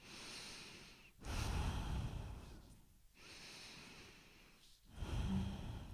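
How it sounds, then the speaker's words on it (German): Deep, fast, dynamic breathing demonstrated by one person: three strong, close breaths, each a rushing inhale or exhale separated by brief pauses, with no talking. "vielleicht genauso tief, aber ein bisschen schneller, dynamischer atmen"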